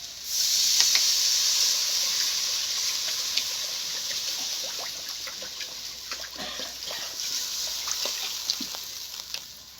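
Water poured into a hot pan of potatoes sautéed with spices for a vegetarian aubergine and potato curry, giving a loud, steady steam hiss that swells at first, then slowly eases and crackles lightly.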